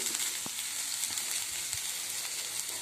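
Sprouted fenugreek seeds heat in an oil tempering, giving a steady, dense sizzle throughout with a couple of faint knocks, close and without any voices.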